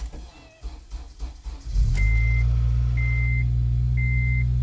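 A 2007 Honda Civic Si, bought from a salvage auction and leaking coolant, cranks briefly and then catches into a steady, loud idle, with a repeated warning chime beeping three times over the running engine.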